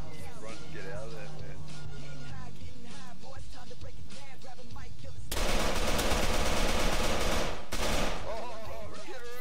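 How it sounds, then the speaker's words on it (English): Automatic gunfire from the military video game Arma 3, played on an Altis Life roleplay server, breaks out loud and close in sustained bursts partway through, after several players talk over each other; voices continue between the volleys. "He started shooting at me first."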